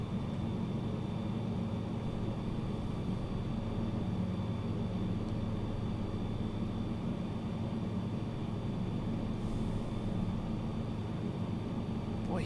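An aircraft in Microsoft Flight Simulator on a steep descent toward a runway near a hill, its engine a steady, even drone that holds unchanged throughout with no voices over it.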